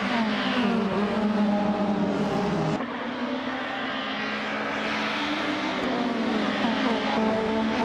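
Race car engines drone steadily together in a racing video game on an alpine festival track, a 1999 Opel Vectra among them, with a brief gear-shift dip partway through.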